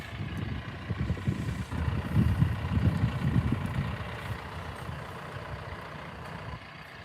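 Ford Transit van engine idling outdoors at a rural work site, a steady low rumble with a slight swell in the middle, alone with no voices.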